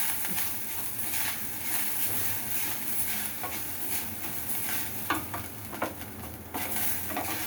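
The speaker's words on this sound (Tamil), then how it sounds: "இந்த தேங்காய் தேங்காயும் அதிலே போட்டணும் லைட்டாக வதக்கணும்" Coconut sautés in a pan for black rice paniyaram, giving a steady soft sizzle with light spatula scrapes and stirring taps throughout, close and fairly quiet.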